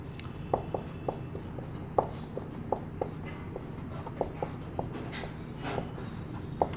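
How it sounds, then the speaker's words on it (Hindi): Handwriting with a pen or marker makes quiet, regular scratchy strokes and small taps, repeating steadily in a calm room. "तो मैं यहाँ लिख देता हूँ"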